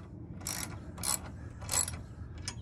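Ratchet wrench tightening a 9/16 inch standard bolt during a Starlink install on an Airstream trailer: four short bursts of close, crisp clicking, evenly spaced over a low background hum.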